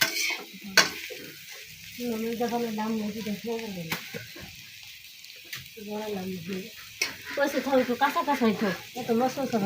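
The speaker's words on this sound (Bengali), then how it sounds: "শুকনা মরিচ বাজবি?" Dried chillies frying in a pan, a soft steady sizzle with occasional stirring and utensil scrapes, running under loud nearby talk.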